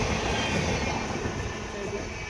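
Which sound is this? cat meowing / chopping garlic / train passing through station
train passing through station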